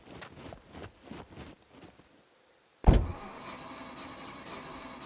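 A car in the survival game SCUM, heard as engine rumble with an abrupt loud thud as a door slams, followed by a steady low drone as it drives off.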